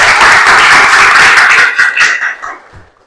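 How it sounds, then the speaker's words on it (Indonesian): A burst of clapping from a group in a classroom lesson, dense and loud, tapering off into a few scattered claps. "Bagus sekali, tepuk tangan."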